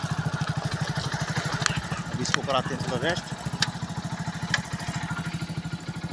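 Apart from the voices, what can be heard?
motorcycle being ridden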